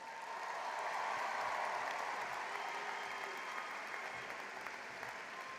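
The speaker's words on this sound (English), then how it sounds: "Give yourselves a round of applause." Graduates applauding at a George Mason University winter commencement, a broad, steady wash of clapping from a large crowd in a big hall that holds evenly, then eases slightly.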